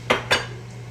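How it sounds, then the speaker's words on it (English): Pot lids clank twice in quick succession as they are shifted aside on a stovetop, two short bright metallic knocks close by, followed by a quiet low hum. "Get my lids moved out of the way."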